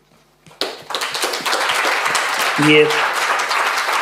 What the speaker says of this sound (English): I think we would all wish to join in applauding you